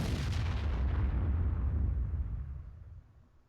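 A single heavy cannon shot from an SU-152 tank destroyer firing HEAT rounds in World of Tanks: a loud, deep boom that rumbles and fades over about three seconds, with no talk.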